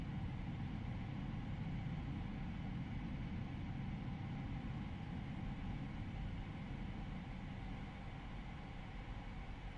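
Steady engine hum of a PMDG Boeing 777F freighter in Microsoft Flight Simulator 2024, heard from behind the engines as a continuous broadband rumble with no change in level.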